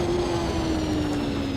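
Race car engine from Automobilista 2 with a bike-like note, a steady high-revving whine with a clear tone sliding slightly downward, loud and continuous over a buzzing rumble.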